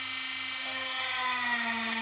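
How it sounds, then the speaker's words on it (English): A small drill bores 1 mm holes through a PCB board, giving a steady high-pitched whine with a constant motor hum underneath, close and unbroken throughout. "I'm not going to torture you, as I say, with the drilling noise. I'm just going to start drilling my way along this"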